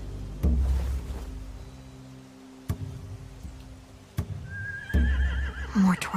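Horses in the video game The Walking Dead give several loud, close neighs and whinnies, with sharp snorts and thumps between them, a shrill whinny rising near the end, and no talk.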